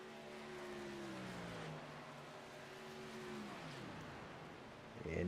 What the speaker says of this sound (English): you can hear him shutting the truck off into these corners